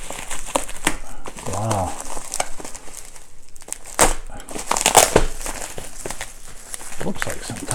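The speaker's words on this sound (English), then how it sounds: "Let me get my knife and carefully open this." A package is cut open with a knife, giving close crinkling, crumpling and tearing of the packaging material in uneven bursts. A person briefly exclaims partway through.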